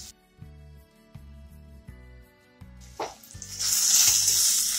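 Potatoes hit hot oil already crackling with green chilli and curry leaves, and a loud steady sizzle swells up and fills the kitchen after a few faint clinks and stirs.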